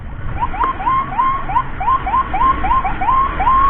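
A Mitra Medika ambulance on emergency call sounds a rapid rising yelp siren over road rumble, the repeating sweeps loud and close as it pushes through traffic.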